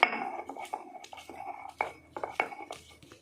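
Garlic being ground on a sil grinding stone, with uneven, gritty scraping and knocking strokes of the stone in short bursts, close and fairly quiet.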